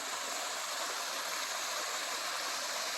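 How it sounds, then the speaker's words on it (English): A small mountain creek running down from a lake gives a steady, even rush of flowing water, continuous and fairly close with no voices or breaks. "Now this little creek comes down, I believe, from Clara Lake."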